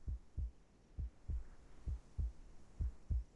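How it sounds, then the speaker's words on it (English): A slow, steady heartbeat from the video game Reverse: 1999, eight or so deep thumps in even rhythm, close and alone with no talk over it. "A heartbeat. Right outside the door."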